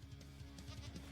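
Goat bleating in the Minecraft video game: a few short, nasal game-animal cries repeat at a steady pace, mid-level and fairly close, with no talking.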